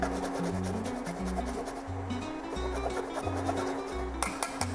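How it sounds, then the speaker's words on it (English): A lemon finely zested with a zester in a home kitchen, a close, scratchy rasp that runs in short repeated strokes, with a few light clinks near the end and no voices. "I'm just gonna zest it very finely because we want a little bit of lemon"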